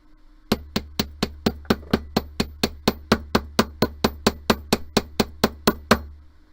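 Hammering on wire hoop earrings for jewelry making, about two dozen crisp, close metallic strikes in a fast regular beat after a brief silent start, ending abruptly.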